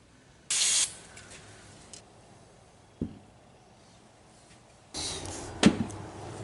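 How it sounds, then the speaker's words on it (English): Aerosol brake cleaner sprays in two hissing bursts onto disassembled Savage 64 rifle parts, a short blast near the start and a longer one at the end, with a few small clicks and knocks in between, close and loud. "let's grab some brake clean and hose all this off of here"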